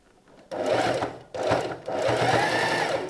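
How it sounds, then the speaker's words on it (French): A sewing machine stitches over thick layered fabric while upcycling clothes, running in three loud close bursts of rapid whirring separated by short pauses. "au moment de la couture, il y a certainement une épaisseur aux différentes matières, mais ça n'empêche pas de coudre par-dessus"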